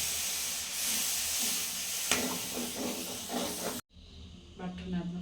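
Hot water poured into a simmering masala gravy for homemade paneer butter masala, a steady loud hiss and sizzle of steam with bubbling pops, cut off briefly before the sizzling resumes.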